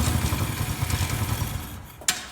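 A Chinese dirt bike engine turns over and runs roughly with a low, uneven rumble for about two seconds, then cuts off with a sharp clack.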